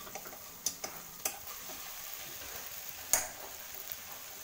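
Pasta frying in a pan as a spoon stirs it, giving a steady faint sizzle broken by a few sharp scrapes and taps of the spoon against the pan.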